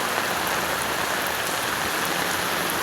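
Heavy rain pours steadily onto surfaces nearby, a dense continuous hiss with scattered drop impacts, loud and unbroken with no talk.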